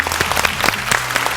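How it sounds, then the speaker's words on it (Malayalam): An audience at a comedy show claps steadily in a brief, moderately loud burst of applause. "എല്ലാവർക്കും നല്ലൊരു കൈയടി."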